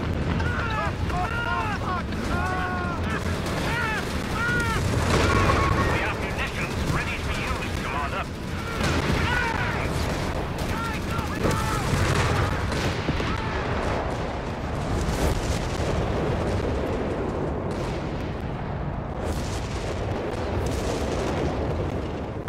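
Artillery booms and rattling gunfire rumble continuously through a Company of Heroes 3 battle, a dense, loud wash of explosions and shots with voices talking over it.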